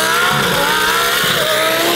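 Twin-turbo Lamborghini Huracan STO making 1650 wheel horsepower on race fuel, its engine loud and close as it accelerates hard, with climbing whining pitches and no voices over it.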